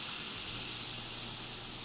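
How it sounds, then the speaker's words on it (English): La Pavoni espresso machine steam wand releasing a loud, continuous hiss of steam, close and steady for the whole moment with no talk. "Lastly, we're going to test the steam wand."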